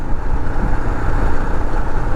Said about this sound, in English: don't necessarily like the sound of the exhaust,